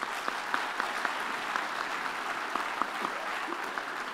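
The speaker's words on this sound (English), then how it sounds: "Give them another round of applause" A graduation ceremony audience claps steadily, a dense, even patter of many hands at moderate distance, sustained without a break and with no talking over it.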